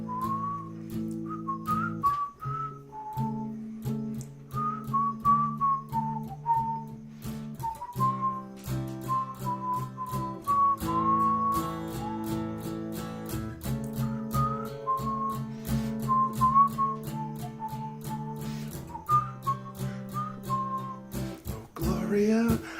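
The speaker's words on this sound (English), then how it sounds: "just doing the whistling part here" A person whistles a tune at home in a live music stream, a clear melodic line of continuous phrases carried over a steady chordal accompaniment for over twenty seconds.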